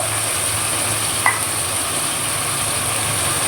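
Goat meat with garlic paste and spices sautéing in a pan, a steady soft sizzle with a faint hiss throughout and one brief scrape of a stirring spoon.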